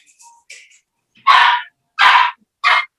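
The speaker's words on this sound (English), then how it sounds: "Wait, my dog is barking." A pet dog barks indoors: three loud, sharp barks in quick succession near the mic, preceded by a few softer yips and whines.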